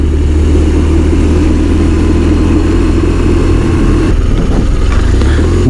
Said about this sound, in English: When the engines got hot, you can hear some boxer sound.